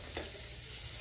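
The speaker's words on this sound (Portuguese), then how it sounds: "Tô fritando aqui o frango." Chicken frying in a pan at home, a close, steady sizzling hiss with a brief stirring scrape near the start, lasting about a second with no voices.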